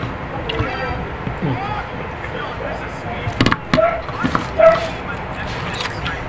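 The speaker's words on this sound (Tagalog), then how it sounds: "Tumatahol na yung aso namin." A dog barks and yips in short bursts, close and sharp, mixed with whimpers, while people talk in the background during a home meal.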